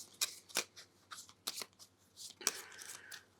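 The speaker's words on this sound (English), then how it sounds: "Vicky is going to have to shuffle." A deck of cards is shuffled for a tabletop board game, giving quick crisp riffling bursts in a short irregular series, close and fairly quiet with no talking.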